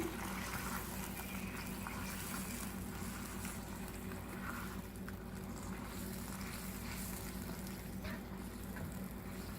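Half a cup of water poured into a pan of marinated achari mutton as it cooks, a steady close-up gushing and sizzling wash that runs unbroken for nearly ten seconds.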